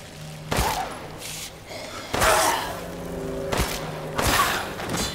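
Gunfire in the survival horror game Resident Evil Village, with four sharp shots fired at irregular intervals over a steady game ambience.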